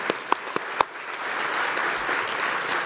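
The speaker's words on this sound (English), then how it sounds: "Maybe just a last round of applause to all the presentations here for their excellent work" Audience applause closes a conference session on integration and large-scale demonstration of CCAM solutions: a few scattered early claps build into steady, even clapping from a seated crowd that fills the room.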